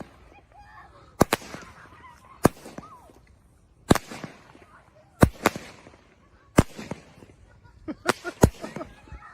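Canada Day fireworks bursting outdoors: about seven loud, sharp bangs at irregular intervals with crackling tails between them, and faint crowd voices and honking noise in the background.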